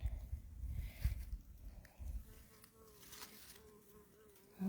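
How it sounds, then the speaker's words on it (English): Bees buzz close by in a steady drone in a garden, with low rustling and a few soft thumps underneath. "there's some bees right here by me. Be nice to me, bees."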